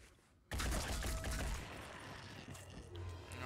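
Sustained gunfire bursts from the turn-based strategy game Phoenix Point, with a sudden loud onset followed by dense rattling volleys and crashing impacts that continue throughout, with no talking over them.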